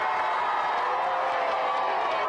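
A studio audience on a televised Gamesmaster video game show applauds and cheers for a competing team, a steady, fairly soft wash of clapping and crowd noise with scattered whoops and no pauses.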